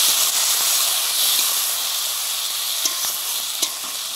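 Spice paste of boiled garlic, turmeric and chilli frying with water in a pan, a loud, steady hissing sizzle close up with a couple of light stirring taps near the end, no voices.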